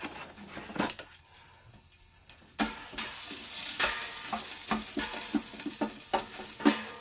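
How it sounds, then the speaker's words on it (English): Minced garlic sizzling in olive oil in a pan for a vegan bean chilli, a soft steady frying hiss broken by scraping spoon strokes and clinks against the pan. "we're gonna put our garlic in first for it to sizzle"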